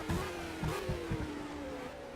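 A race car in a GP Anniversary Championship race accelerates out of the final corner and passes close by, its engine a loud continuous drone with a gradually falling pitch.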